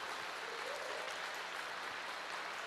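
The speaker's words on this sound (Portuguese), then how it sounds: "Você pode aplaudir ao Senhor, querido." A church congregation applauds, a dense, steady wash of clapping from many hands that carries on evenly throughout, fairly distant and soft, with no clear voices over it.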